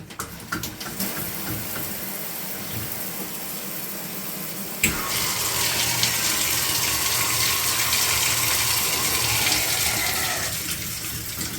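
Water flows through the overflow hole of a sink. A quiet trickle comes first, then a sudden loud, steady gush that carries on until it tapers off near the end.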